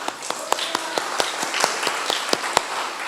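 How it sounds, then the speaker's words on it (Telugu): One person claps by hand at an even, fairly quick pace, about a dozen sharp claps in a few seconds, close by, over a faint room murmur. "ఇందుని బట్టి నేనే క్లాప్స్ కొడతాను మీకు"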